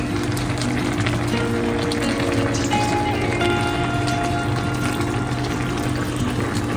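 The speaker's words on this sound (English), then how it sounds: "Add some chicken broth in there so we can get all of that up in there." Chicken broth pours steadily into a hot pan of curry shrimp rasta pasta, a continuous wash of liquid mixed with sizzling that runs unbroken and fairly loud throughout.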